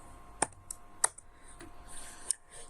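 Keys clicking on a computer keyboard while code is typed, a few separate taps in an uneven rhythm, close and quiet in a calm room.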